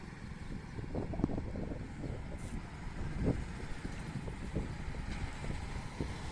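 A BS6 state transport bus pulls in, heard as a low, rumbling engine at moderate distance with wind buffeting the microphone and faint voices around.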